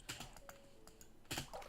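Computer keyboard keys pressed during a Minecraft session, a few soft clicks clustered at the start and a louder burst of tapping near the end, faint and close with no voices.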